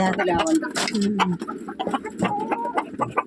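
Hens at a poultry farm cluck steadily and close by, a busy overlapping flock with brief louder squawks throughout.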